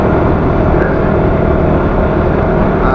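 Honda RS motorcycle engine idling with heavy vibration, a dense, loud, unbroken drone and rattle that holds steady throughout.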